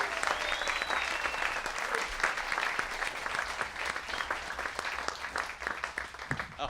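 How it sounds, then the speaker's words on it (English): An audience at a Satchmo Summerfest presentation gives sustained applause for volunteers, a dense steady wash of many hands clapping heard from within a hall. "Could you give a big hand of applause to the volunteers?"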